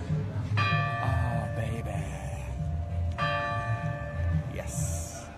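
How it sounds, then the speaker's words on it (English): Church bells ring at 5 p.m. in the Dutch town of Makkum, Friesland, with two clear ringing strikes that sustain and fade under light outdoor ambience, while a person speaks briefly. "So, nice gentle bell there."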